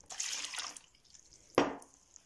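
A cup of water is poured into a kneading bowl for gözleme dough, a soft splashing pour followed by a short, louder gush near the end.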